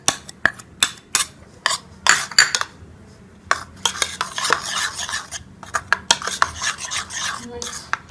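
Spoon clinks and scrapes against a bowl while achar gosht masala is stirred into yogurt, a close series of sharp taps and rubs with brief pauses, no talking.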